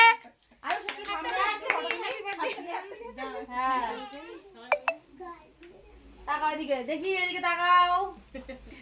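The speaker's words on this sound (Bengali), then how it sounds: "হাততালি দাও জোরে।" Hands clap at a child's birthday party, a few sharp claps mixed under children singing and talking along with the celebration.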